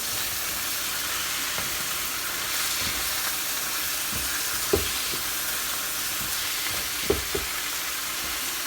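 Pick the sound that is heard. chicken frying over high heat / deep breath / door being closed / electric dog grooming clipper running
chicken frying over high heat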